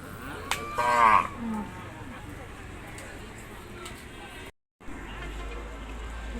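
A large cow lets out one loud, drawn-out moo at a busy Qurbani cattle market, with a steady crowd murmur around it and a brief dropout later.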